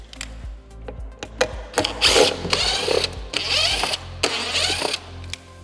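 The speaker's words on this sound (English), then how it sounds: "we're going to remove the speakers by taking out these 4 T25 screws" A power tool whirs in short bursts with clicking ratchet sounds as four T25 screws are backed out of a speaker on a 2024-2026 Harley-Davidson Street Glide Ultra, loud and close with no talking.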